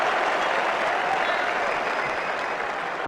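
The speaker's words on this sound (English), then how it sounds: "The crowd really enjoyed that one." Steady, dense applause from a large crowd in a Brian Lara Cricket 07 match between India and Sri Lanka, holding at an even loudness throughout without breaks.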